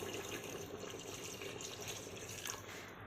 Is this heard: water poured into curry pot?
yes